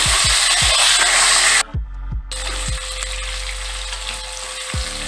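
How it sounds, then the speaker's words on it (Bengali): Boiled beetroot and carrot frying in spices in a hot pan, a loud steady sizzle broken by a brief drop as the vegetables go in, with low thuds of stirring throughout. "মশলাটা হালকা ভাজা হয়ে গেছে, আমি এর মধ্যে গাজর গুলো দিয়ে দিচ্ছি,"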